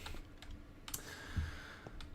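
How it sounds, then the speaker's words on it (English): Clicking on a computer keyboard: scattered light key clicks at an uneven pace, faint and close, with no talk. "you might be able to hear me clicking on my keyboard and stuff"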